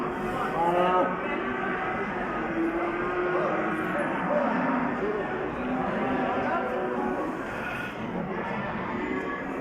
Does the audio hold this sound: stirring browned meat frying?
no